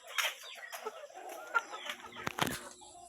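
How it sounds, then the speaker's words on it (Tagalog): Several chickens cluck and squawk nearby in overlapping bursts, with a few sharper calls standing out. "Daghan kig manok"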